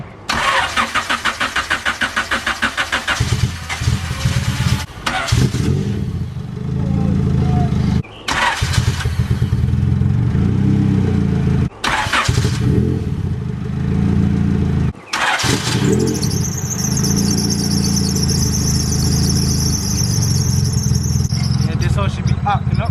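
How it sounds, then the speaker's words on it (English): A 1998 Honda Civic, cold and freshly engine-washed, cranks in several bursts broken by brief pauses before catching, then settles into a steady running idle; a voice talks partway through. "Fingers crossed that this car starts."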